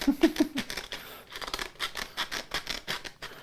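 Quick, rhythmic scissor snips sound up close, about a dozen crisp cuts in a row, starting with a few soft taps.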